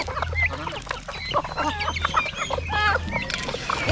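Chickens and chicks on a farm cluck and peep busily close by, mixed with a low intermittent rumble underneath.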